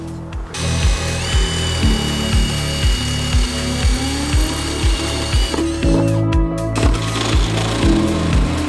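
A 7/8 drill bit boring a hole through a vehicle floor for a diesel heater install, a loud close power drill with a rapid rhythmic ratcheting chatter that runs steadily, briefly cutting out.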